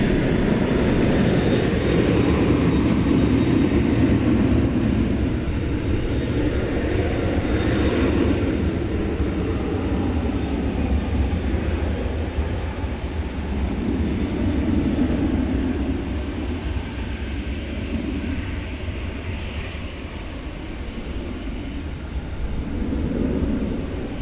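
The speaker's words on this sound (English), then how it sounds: "American Flight 2628 to Omaha, Nebraska. It's a" At night at Dallas Fort Worth Airport, an American Airlines Boeing 737-800 jet airliner on Flight 2628 to Omaha makes a sustained broad jet roar that swells and eases over about twenty seconds, with no voices.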